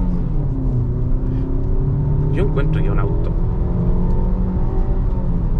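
Suzuki Vitara 1.6 engine accelerating, a steady rumbling drone with rising tones mid-clip, under someone talking in Spanish.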